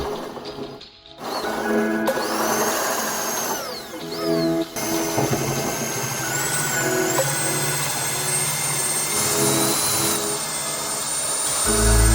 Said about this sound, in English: drilling holes for the 50mm pipes for the air source heat pump to heat the pool.